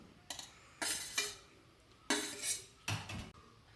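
Rice and curries being served into a Kerala-style lunch packet, with several short bursts of spoon-on-dish clinks and scraping, close and fairly quiet, separated by brief pauses.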